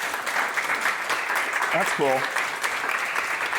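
Loud, steady audience applause for podcast guests fills the room, with a brief spoken remark heard over the clapping.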